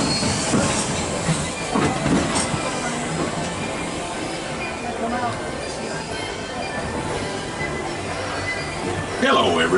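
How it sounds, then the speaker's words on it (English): The Disneyland Railroad amusement park train rolls steadily along with rumbling and clattering wheels, while people talk and call out over the constant noise. "Thanks for joining us on the Disneyland Railroad."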